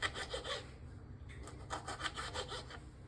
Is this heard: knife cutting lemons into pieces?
yes